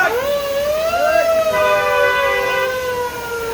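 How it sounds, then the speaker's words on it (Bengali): A hearse's siren wails loudly and steadily as the vehicle passes close by, its rising and falling tone sustained throughout with no talking. "লাশের গাড়ি।"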